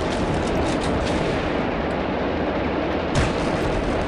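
Gunfire in the video game Soldier of Fortune: a dense, loud wall of shots and blasts that runs without pause, with a sharper burst near the end.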